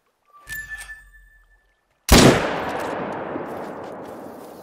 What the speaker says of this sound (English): Was that you shooting? Or is that them?